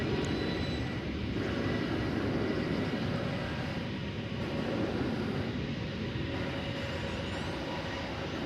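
A Boeing 737-800 airliner at DFW Airport gives a steady, broadband jet engine roar that holds constant and moderately distant throughout, with no talking.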